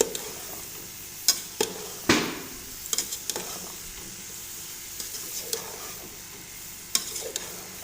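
Potato and cauliflower with spices sizzle softly in a pan while a spoon stirs and scrapes at them in scattered sharp knocks, close and fairly quiet.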